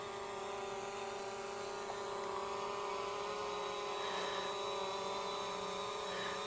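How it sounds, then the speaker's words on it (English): A Fimi A3 drone hovers and descends, its propellers holding a steady, faint high whine with a constant tonal hum and no voices. "But the drone is coming down."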